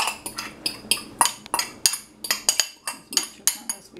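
A utensil briskly mixing flour and green seasoning in a bowl, producing a rapid, rhythmic series of sharp clinks and scrapes, close and fairly crisp, with no voices.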